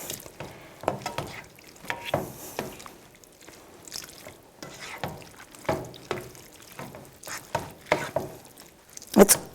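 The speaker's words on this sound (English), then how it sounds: "And then we're going to stir this all together." Spoon stirring a tomato basil sauce with Parmesan cheese and heavy cream in a pan, soft irregular scraping and wet slopping strokes, close and fairly quiet, with no talking.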